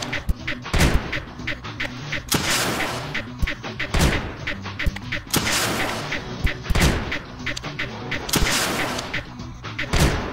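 Blasters in the Creeper World 2 strategy game fire in repeated heavy booming volleys, sharp thuds recurring every second or so over a constant low background.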